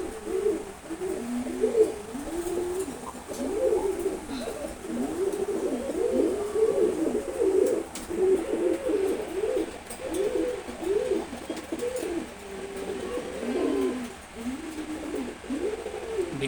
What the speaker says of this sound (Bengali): কাকি কবুতর অ্যাকচুয়ালি খুবই ফ্রেন্ডলি হয়